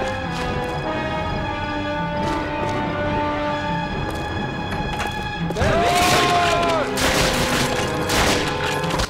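Gunfire in the World War II shooter Call of Duty: Finest Hours, sharp bursts and shots crackling over a steady bed of music and battle noise, with a louder flurry near the end and a voice talking underneath.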